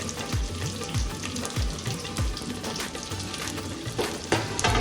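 Thinly sliced onions frying in a pan for a brinjal curry give a loud, continuous close-up sizzle, with soft stirring scrapes and the clink of a utensil against the pan.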